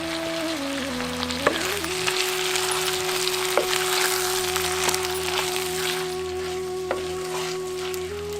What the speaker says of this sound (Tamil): இப்ப கழுவி வச்சிருந்த 1/2 கிலோ கோழிக்கறியை சேர்த்து அது கூடவே 1/2 தேக்கரண்டி மஞ்சத்தூள், தேவையான அளவு உப்பு, 2யும் சேர்த்து கறியை நல்லா பிரட்டி விட்டுருவோம்